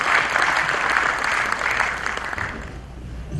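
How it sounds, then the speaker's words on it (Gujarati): An audience claps warmly to welcome the speaker Kajal Oza at an inauguration function in Surat, steady applause from a crowd that fades out toward the end. "એકવાર જોરદાર તાળીઓ સાથે કાજલબેનને આપણે સાંભળીએ"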